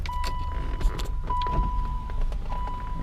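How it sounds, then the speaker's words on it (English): Corvette power windows going up, a thin steady electric motor whine running through most of the moment, with small clicks and thumps in a car interior. "Let's put these windows up."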